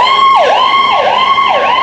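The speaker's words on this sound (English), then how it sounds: "Yeah, ambulance, man. That shit be irritating the whole time." Ambulance siren on a street, a loud, close wail that rises and falls in a steady repeating sweep three times, with no other sound over it.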